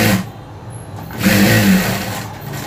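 A sewing machine runs a straight seam on a blouse, its motor whirring steadily and swelling louder in the middle of the run before easing off, with no voices over it.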